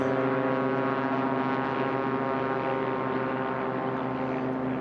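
A Cessna 180 airplane engine drones steadily and loud at a STOL drag race, a continuous propeller roar with strong tonal hum holding even throughout, no talk over it.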